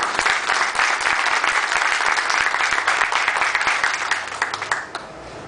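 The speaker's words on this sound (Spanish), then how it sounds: "el doctor Ramiro Reina Hinojosa, para quienes pedimos un fuerte aplauso." Audience applause at a book presentation, a dense, steady wash of many hands clapping close by for about five seconds, then tapering off quickly at the end.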